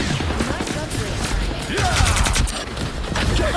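Warlock alternate fire shots in a video game crackle in a rapid, dense burst that carries on steadily throughout, loud and up close, mixed with other battle noise and a voice under it.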